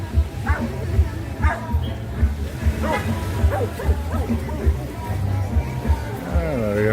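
A surfing dog at Alona Beach barks and yips in short, repeated bursts amid beach chatter and surf, with a few whimpering whines near the end.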